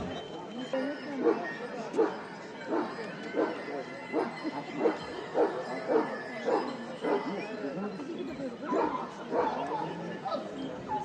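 Kangal and Aksaray Malaklı shepherd dogs bark and yip in a regular series of short bursts, moderately close, with people talking in the background at a Turkish shepherd dog breed competition.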